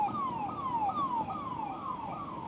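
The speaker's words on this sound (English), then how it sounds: "Ambulance." An ambulance siren wails in repeating falling sweeps, steady and fairly close, over a low rumble of traffic in India.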